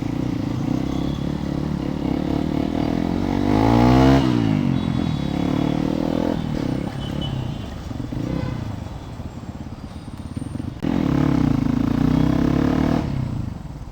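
A Hero XPulse motorcycle ridden close by, its engine revving up and easing off in steady rising and falling swells, loud throughout with rattling clatter and no talk.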